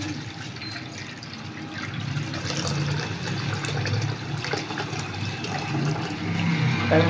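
Steady watery pouring and trickling as cardamom-flavoured syrup is strained through a filter in a kitchen, continuous and fairly close with no talking.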